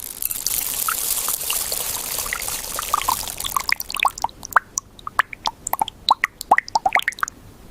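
Brown liquid drips and trickles into a soap base in a coconut-based soap factory, starting as a steady pouring hiss, then breaking into separate close, distinct drips.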